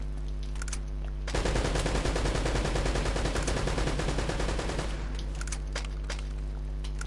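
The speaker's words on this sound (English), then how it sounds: "Yeah, AK, definitely AK." An AK assault rifle in Uncharted: Drake's Fortune fires one long, loud, rapid automatic burst of about three and a half seconds, with quieter scattered shots before and after.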